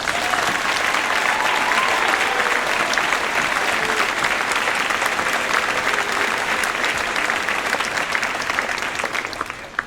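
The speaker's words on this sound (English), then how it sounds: "Please join me in giving these fine men and women another huge round of applause." An audience claps at an indoor marching band show, a dense, sustained round of applause that holds steady for several seconds before tapering off at the end.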